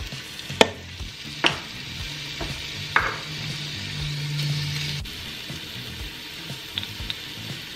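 Pork pieces brown in an Instant Pot on saute, a moderate sizzle under several sharp knocks and scrapes as pieces are added and moved, with a steady low hum beneath.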